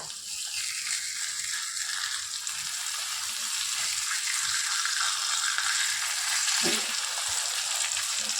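Bombil (Bombay duck) fish frying in oil on a tawa over low gas, a steady close hissing sizzle with a single brief clack near the end, no talk.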